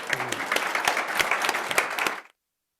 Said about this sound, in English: round of applause for the panel